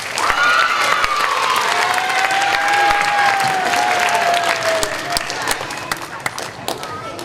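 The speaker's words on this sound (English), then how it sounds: "Let's give them one more round of applause." Applause from a school assembly audience at an elementary school morning gathering, a loud sustained burst of clapping with some cheering that gradually thins out toward the end, with children's voices mixed in.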